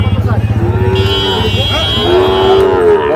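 Cattle at the Ambari market, where Sahiwal bull calves are sold, let out two long, loud, close moos over a low throbbing rumble at the start.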